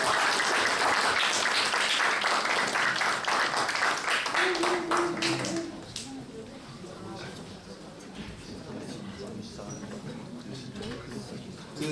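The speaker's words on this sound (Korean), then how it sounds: "박수로 맞이해 주세요." An audience applauds at a church young adults' service, loud sustained clapping for several seconds that then thins out, with a voice speaking over the quieter remainder.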